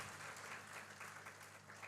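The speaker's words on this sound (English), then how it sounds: "Please have a huge round of applause." Faint, distant audience applause at an AI conference prize ceremony for a third prize award, a steady wash of clapping heard low in level over a constant hum.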